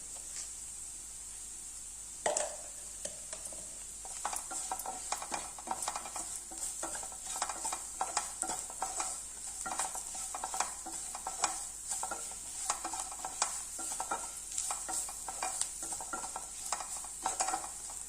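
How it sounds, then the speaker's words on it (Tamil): Food sautés in a pan for a variety rice dish, a steady low sizzle under frequent scraping and clinking stirring strokes in an irregular rhythm, close and moderately quiet with no voices. "கொஞ்ச நேரம் வதங்கட்டும்."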